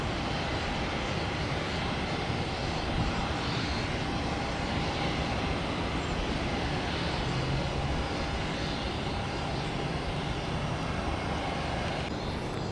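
Southwest airliner jet engines rumbling at Tampa International Airport, a steady broadband roar held for several seconds at moderate distance, with rain-like hiss mixed in and no talking.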